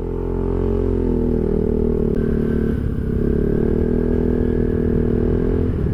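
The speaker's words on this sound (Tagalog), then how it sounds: "Ayan yung tunog nya. May silencer yan." A Rusi Rapid motorcycle with a new exhaust and silencer runs close by in a steady, throaty drone, its engine note shifting slightly as it revs and settles, with faint clatter underneath.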